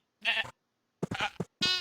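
Sheep bleats from a Minecraft sheep farm: three short, nasal bleats in quick succession with brief gaps, clear and close, with no talking.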